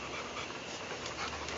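A boxer rottweiler mix dog playing in a front yard pants quickly and continuously, a close, breathy rasp with no voices over it.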